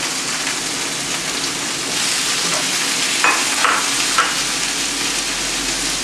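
Onion frying in a hot pan for sweet and sour chicken, a loud dense hiss of oil that swells slightly midway, with a few brief crackles and stirring scrapes and no talking.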